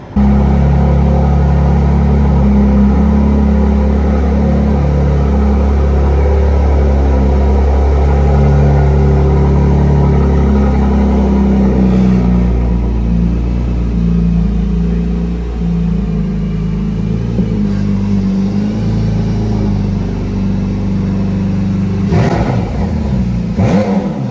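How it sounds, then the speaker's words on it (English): A McLaren Artura plug-in hybrid's engine runs steadily up close with a loud, deep idle rumble, then lifts into a few brief revs toward the end. "luckily I was able to hear it run as soon as I walked in"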